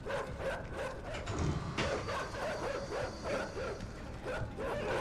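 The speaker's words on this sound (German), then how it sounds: "Oh, die Hunde! Die Hunde!" Dogs in the puzzle-platformer Inside yip and bark repeatedly in a rapid, overlapping pack over a dense rumbling game backdrop, with no speech.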